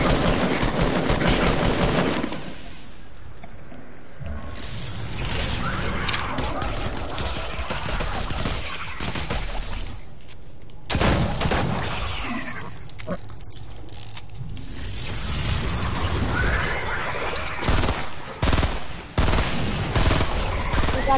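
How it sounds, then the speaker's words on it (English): Rapid bursts of gunfire rattle through a zombie-shooting PS4 game, dense fusillades and machine-gun style volleys that rise and fall across the stretch, mixed with game noise and occasional voices talking. "No, I'm just shooting zombies"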